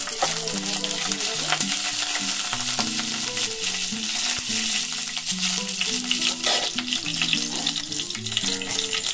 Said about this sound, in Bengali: দেখুন লবঙ্গ, এলাচগুলো যেগুলো আমি গুঁড়ো করে মানে রেখেছিলাম তেলে, সেটা দেবো